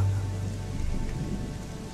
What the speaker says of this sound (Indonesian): Hujan yang tak kunjung berhenti membuat kami menunggu cukup lama dan sulit untuk pulang.